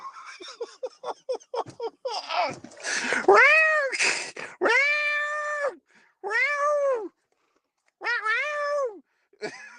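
A cat meows repeatedly, close and clear, several drawn-out cries with short pauses, following some quick rustling and chirpy sounds at the start.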